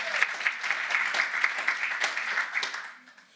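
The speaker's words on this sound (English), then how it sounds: "So give Nikki a round of applause" Audience applause at a start-up day conversation event, a dense crowd clapping steadily for about three seconds before quickly tapering off to quiet.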